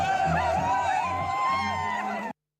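A crowd of tourists on Manali's Mall Road whoops and cheers in falling snow, loud overlapping excited voices up close, ending abruptly after about two seconds.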